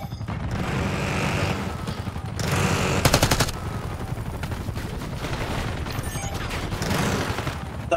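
Gunfire from the Jackal PDW in a Black Ops 6 multiplayer match, with rapid automatic bursts and dense rattling volleys that come and go over several seconds, close and loud, with a sharper cluster near the middle.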